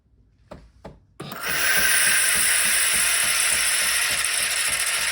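A Philips LatteGo automatic coffee maker frothing milk: a couple of soft knocks, then a loud steady hissing, sputtering whir starts abruptly and runs on without pause, close by.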